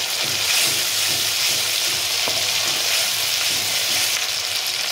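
Ginger and garlic paste frying in a pan after onion paste for a Bengali prawn malai curry, giving a loud, steady, close hissing sizzle with one brief faint tap and no talk.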